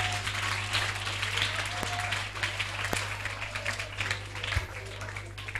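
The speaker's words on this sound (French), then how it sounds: "Acclamons très fort." A congregation at a prayer service breaking into sustained applause, dense clapping that fills the space, mixed with voices calling out and a few low thumps.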